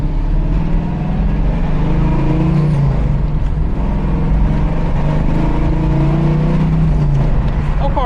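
A 1973 Chevrolet Camaro with a four-speed manual, heard from inside while driving, its engine rumbling loud and steady with rising and falling revs, and people talking over it.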